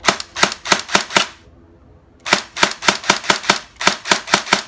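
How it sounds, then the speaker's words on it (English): A CYMA JD 002 blaster firing rapid bursts of sharp, snappy shots, close and loud, in quick regular strings with a short pause between bursts. "Okay, kita dengar sikit dia punya fire."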